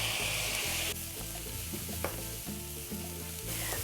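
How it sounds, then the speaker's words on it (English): Tomatoes sautéing in a pan for ground beef gorditas, a steady close sizzle with clinks and scrapes of stirring running throughout, no voices. "Saute the tomatoes for about a minute"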